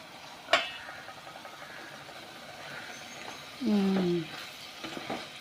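Tomatoes softening in a pan with soft, steady sizzling and stirring, a sharp clink near the start and a brief scraping squeal of the pan later, all fairly quiet and close.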